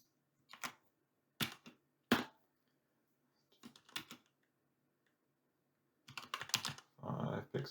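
Typing on a computer keyboard close by and quietly: short bursts of key clicks separated by pauses, ending in a quicker run of keystrokes.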